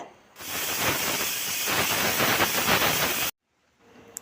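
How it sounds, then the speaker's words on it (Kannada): A pressure cooker whistle blasts a loud, sustained steam hiss for about three seconds while cooking bamboo shoot sambar, then cuts off abruptly, leaving quiet kitchen noise. "ಈಗ ಕುಕ್ಕರ್ ಒಂದು ವಿಷಲ್ ಆಗಿದೆ"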